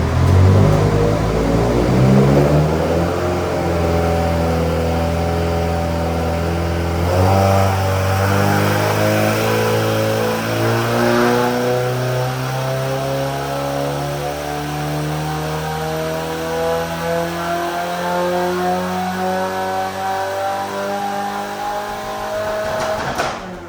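A 2024 Subaru WRX engine revving on a dyno, loud and sustained, climbing steadily through the gears with a strained, continuous roar over about twenty seconds.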